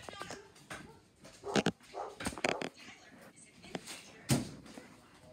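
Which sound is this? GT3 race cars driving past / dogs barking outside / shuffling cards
dogs barking outside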